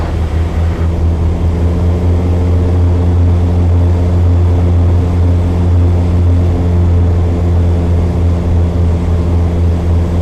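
A loud, steady propeller drone with a deep throbbing hum fills the clip without pause, like sitting inside a multi-engine propeller airplane in flight.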